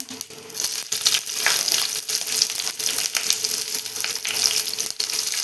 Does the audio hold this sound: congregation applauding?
no